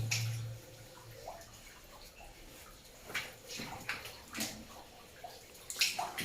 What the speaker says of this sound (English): I like that, how the water comes out from one little hole like that.